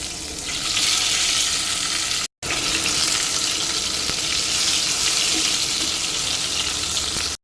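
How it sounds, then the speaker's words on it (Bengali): Tomatoes fry in oil in a wok, giving a loud, continuous hissing sizzle close by, broken by one very short silent gap before the sizzling resumes just as strongly. "টমেটোগুলো একটু ভেজে নেব।"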